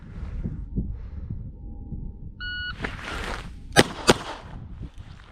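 A short electronic beep sounds from a shot timer at a pistol drill, followed shortly by two sharp, loud gunshots in quick succession.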